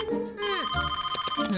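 A cartoon telephone rings in repeated electronic trills at close range, with a voice talking over the start of the ringing.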